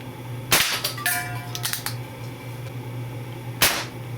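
A custom Crosman 2240 pellet gun fires sharp, loud cracks outdoors, two shots about three seconds apart, with a few fainter clicks and knocks between them and no talking.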